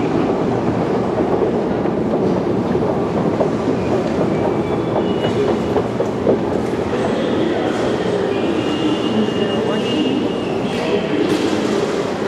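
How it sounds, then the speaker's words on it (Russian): Metro train at Moscow's Tsvetnoy Bulvar station: a loud, continuous rumble of carriages and rails fills the whole stretch, with faint squealing tones rising over the steady station din. "Мы поднимаемся на выход из станции Цветной бульвар."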